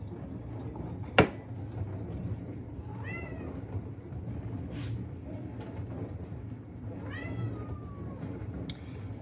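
A cat meows twice in a kitchen, each call a drawn-out rising-and-falling cry a few seconds apart, over a low steady background hum with a sharp clink early on.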